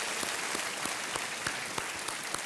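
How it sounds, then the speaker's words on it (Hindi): Steady applause from a TV quiz show studio audience, a continuous dense patter of clapping at moderate distance. "एक बार तालियों के साथ इनका फिर से अभिनंदन।"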